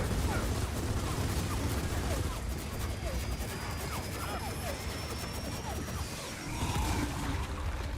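Suppressed gunfire in the video game Gears of War 4, a steady stream of muted shots and impacts under continuous talk and game noise.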